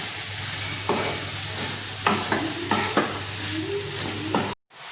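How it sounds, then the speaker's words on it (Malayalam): Onion, curry leaves and green chilli sauté in a pan under a constant sizzle, with a series of distinct spoon scrapes and taps as they are stirred, close by, ending in a sudden cut, no voices. "ഉള്ളി, കറിവേപ്പില, പച്ചമുളക് ഇതൊക്കെ ചേർത്ത് നല്ലതുപോലെ വഴറ്റി കൊടുക്കാം"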